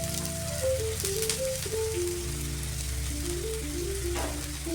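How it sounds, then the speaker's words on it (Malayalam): Sliced onions frying in hot coconut oil, giving a steady close sizzle and crackle that holds at an even level throughout, with soft background music underneath. "വെളിച്ചെണ്ണ ചൂടായി വന്നിട്ടുണ്ട്. ഇതിലേക്ക് നമുക്ക് 2 സവോള അരിഞ്ഞത് ചേർത്ത് കൊടുക്കാം."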